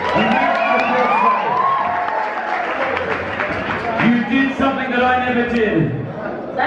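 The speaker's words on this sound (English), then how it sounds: "Give yourselves a big round of applause" A crowd claps and cheers in a dense, steady wash, with excited shouts and several people talking loudly over and through it the whole time.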